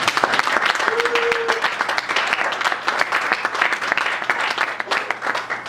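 A church congregation at a Sunday service claps in dense, sustained applause. A short vocal tone is heard early, and a few voices mix in with the clapping.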